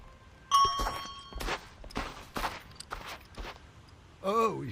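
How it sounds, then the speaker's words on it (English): Bell rung in the smithing video game Blackforge, a bright metallic ding that opens the moment, followed by several dull thumping steps and a wavering chime near the end. "Ring this bell here"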